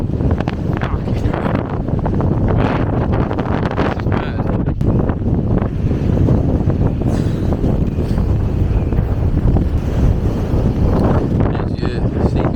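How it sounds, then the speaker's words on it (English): Strong wind buffets the microphone continuously, a loud roaring rush with gusty flutter throughout. "this is so windy"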